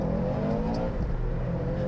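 A Mini Cooper S cabrio or Subaru Impreza WRX STi engine revs up as the clutch catches during a lap-timing run, a steady loud roar heard close, with no speech.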